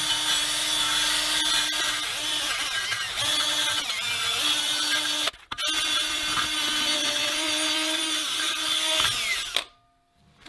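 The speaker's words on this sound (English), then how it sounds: "So I gotta buffer that out too." A power buffer grinds rust off the inside of a truck wheel on an 80 F-350 service truck, a loud continuous whirring scrape close by with one brief break before it winds down.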